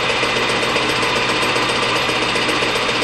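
A metal lathe takes a light facing cut on 1 1/4 inch stock. Its steady mechanical whir and rattle run close and loud without a break, and no one speaks.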